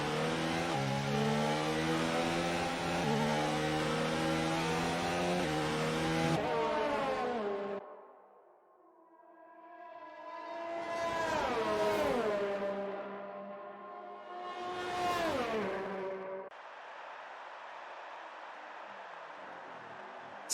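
A Formula 1 car in F1 2019 at the Chinese Grand Prix short shifting out of a corner: a high engine whine drops abruptly, then climbs and cuts through two quick upshifts before settling at steady revs.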